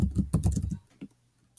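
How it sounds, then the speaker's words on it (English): Quick burst of computer keyboard typing up close, a fast flurry of clacking keys that stops, followed by a single isolated tap and one more sharp key hit at the end. "I'm going to double click and I'm going to type"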